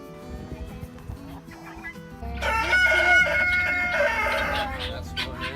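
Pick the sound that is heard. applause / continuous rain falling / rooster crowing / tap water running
rooster crowing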